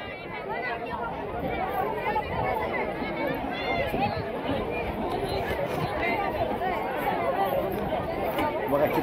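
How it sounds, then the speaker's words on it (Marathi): Dense crowd chatter from people queued for darshan at a Balumama palanquin procession, a steady close hubbub of many overlapping voices with shuffling movement throughout. "बघा किती गर्दी आहे बघा दर्शन"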